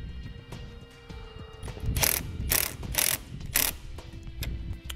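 A ratchet tightens a 10mm nut onto a vehicle battery post stud, with several quick clicking bursts up close over a low background hum.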